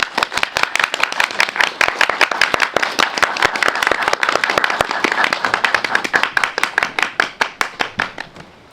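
An audience at a film screening Q&A applauds to welcome the director and actors, dense sharp handclaps ringing close and loud, holding steady before thinning out and fading at the end.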